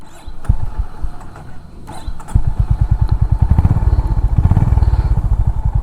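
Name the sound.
Honda H'ness CB 350 motorcycle engine starting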